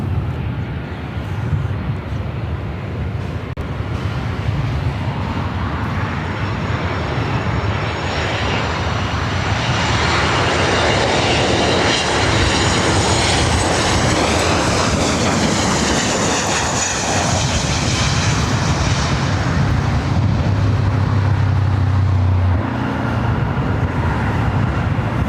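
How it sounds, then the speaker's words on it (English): An Airbus A321neo jet approaches Los Angeles LAX, its engine roar building steadily to a loud, sustained rumble with a rising whine on top that swells and then holds near the end. "A321neo heading over here now."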